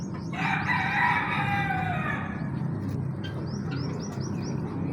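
A hen with sores on her beak and comb, in a home flock, lets out one drawn-out, loud chicken call lasting about two seconds, over a steady background hum. Fainter, brief chirps follow.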